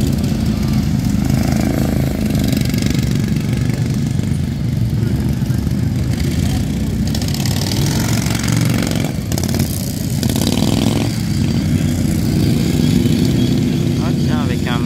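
A ride-on lawn mower engine at a mower race in Saché idles and revs with a steady rough drone, while people chat nearby over it.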